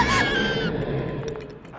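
A voice imitates a dragon with a loud, harsh scream that fades into a rough, grating roar over about two seconds, in a French-dubbed Ever After High animated episode.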